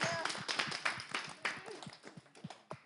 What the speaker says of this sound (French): Applaudissements là.